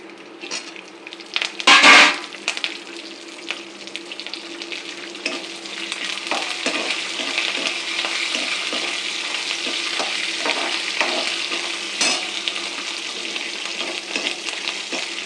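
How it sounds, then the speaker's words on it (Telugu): Green chilies and curry leaves frying in a pan of hot oil for a tempering, with steady close sizzling and crackling throughout, a sharp burst of spattering near the start, and occasional stirring, no talking. "సిమ్లో చేసుకుంటే అందంగా వేగుతున్నాను పోపు."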